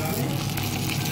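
Chicken sizzling in a tablespoon of olive oil in a pan, a steady, close, broadband crackle and hiss filling the short moment.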